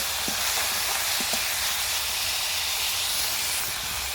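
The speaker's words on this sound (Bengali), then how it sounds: "এবার আমি দিয়ে দেব এর মধ্যে একটি বড় সাইজের টমেটো তো এগুলো আমি একটু ভালো করে ভেজে নেব" Chopped onion and a large tomato fry in a pan, giving a steady broadband hiss that runs the whole time with a few faint clicks and no talking.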